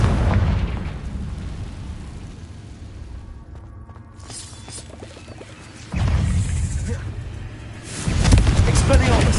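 Confringo blasting spell explosions in Hogwarts Legacy, loud bursts and booms with crackling debris, one big blast hitting near the middle and another toward the end, amid continuous noisy game action.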